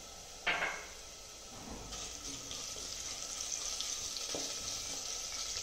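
A sharp crackle as dried red chillies drop into hot oil for a tadka, followed by a steady, low sizzle that continues throughout.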